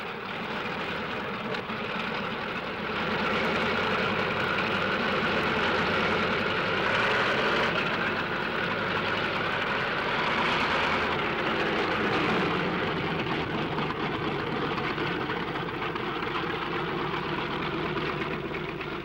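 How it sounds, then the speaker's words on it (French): Second World War fighter aircraft engines run on the parking area before takeoff, a steady, dense droning roar holding loud throughout with no voices over it. "Sur les parkings, les moteurs tournent."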